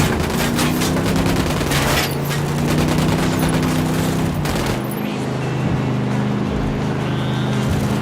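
Loud, continuous bursts of gunfire in Ghost Recon Wildlands, rapid overlapping shots over a droning engine rumble, steady and intense from start to finish.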